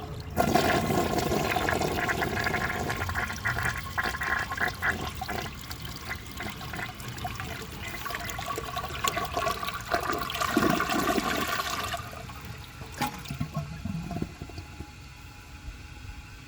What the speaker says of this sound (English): The flush is very nice on this toilet.